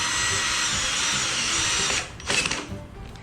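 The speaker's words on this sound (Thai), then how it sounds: "อัดสกูไปให้ คืนอย่างเดิมก่อน" A power drill whirs steadily for two seconds driving screws into a speaker cabinet, then stops, followed by a short burst of motor noise as the screw seats.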